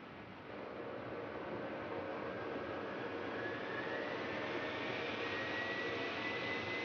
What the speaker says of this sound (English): A meter outside the unit records the motor's performance as it sped up to maximum revolutions.